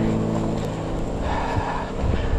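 Steady, rushing wind buffeting the microphone during a motorcycle ride, a broad low roar that holds constant and swells slightly near the end.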